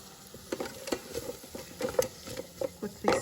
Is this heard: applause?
no